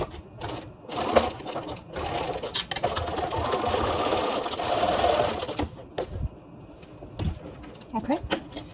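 A sewing machine top stitches a fabric face mask in short runs and stops, its motor whirring between clicks and fabric handling noises, with a voice talking at times.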